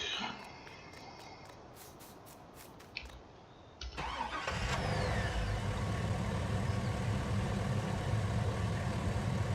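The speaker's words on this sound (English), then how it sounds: "I thought this truck was rather loud actually when I bought it" A truck engine in the video game Farming Simulator 19 cranks and catches partway through, then settles into a loud, steady rumbling idle.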